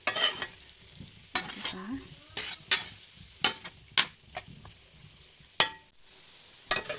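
Potatoes frying in a pan are stirred with a utensil, giving intermittent sharp scraping and clacking strokes over a low sizzle, with a brief spoken word in between.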